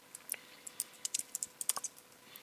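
Quiet, close keystrokes on a computer keyboard on a MacOS machine, irregular clusters of soft clicks with no talking.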